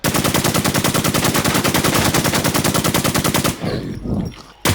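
Rapid automatic gunfire in the online shooter game Infestation rattles in a long continuous burst of evenly spaced shots, loud and close, then cuts off into a few scattered fainter sounds.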